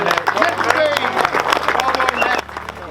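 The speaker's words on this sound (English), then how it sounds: "Big round of applause for your winner, picking up 10 grand." A crowd at the 2022 Golden Rod feeder fishing final applauds the winner with steady, dense clapping and some crowd noise, while a voice talks over it; the clapping drops off sharply near the end.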